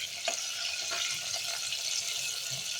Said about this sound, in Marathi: मिरच्या आपण आता तळून घेत आहे.